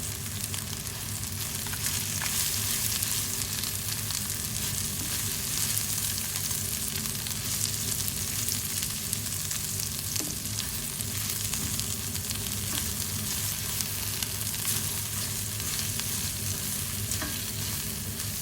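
Biryani spice mix frying with browned ginger garlic paste for Arabic-style meat (laham) biryani, a steady loud sizzle with scraping stirs running continuously throughout, no talk.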